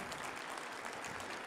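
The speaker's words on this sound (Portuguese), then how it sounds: "E eu queria pedir uma salva de palmas a esse grande parlamentar" Brief, faint burst of audience clapping at a solemn session of a legislative assembly honoring a doctor, an even patter of many hands heard at a distance.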